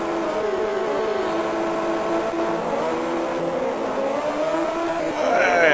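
A retro Commodore Amiga motorbike racing game, RVF Honda, plays a steady synthesized engine drone that rises in pitch near the end as another bike approaches.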